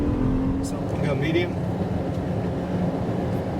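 A 2018 Buick Enclave Avenir with a roughly 310-horsepower V6 pulls onto a highway, its engine and road noise rising into a steady, loud cabin drone while a person talks over it.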